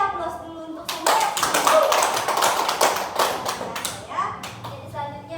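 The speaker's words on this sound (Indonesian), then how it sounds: "Beri aplaus dulu untuk saya" A primary school classroom in Indonesia bursts into applause for the teacher, a dense, continuous clatter of many children's hands clapping for several seconds, loud and close, with young voices calling out over the clapping.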